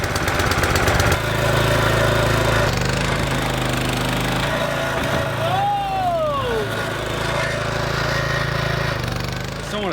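A gasoline engine on a reel lawn mower catches after a second pull of the starter and keeps running loud and close, a steady rough drone with some talk over it and a brief rising whine partway through.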